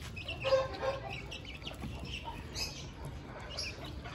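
Young chicks chirp and cluck softly at a farmyard spot, a scattered, faint chorus of short peeps over quiet background noise.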